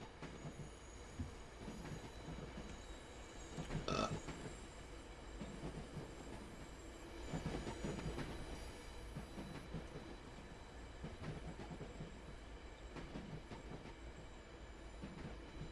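An Amtrak train passing in the simulator Train Sim World 5 on the MBTA Framingham/Worcester line, a continuous low rumble with clickety-clack of wheels, a brief squeal, and swells as cars roll by, fairly faint.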